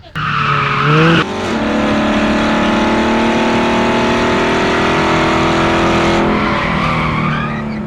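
Loud, sustained roar of a Chevrolet Corvette C8 with a Borla exhaust revving, rising in pitch with a sharp throttle blip early on, then holding a steady high-rev drone.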